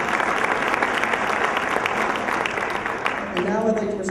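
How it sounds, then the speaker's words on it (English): A crowd at an East Hartford High School memorial celebration applauds the school, steady clapping that carries through and begins to fade as a voice comes in near the end. "a big round of applause to the East Hartford High School for raising so much money"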